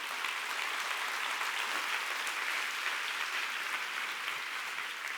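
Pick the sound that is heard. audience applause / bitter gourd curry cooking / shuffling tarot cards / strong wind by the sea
audience applause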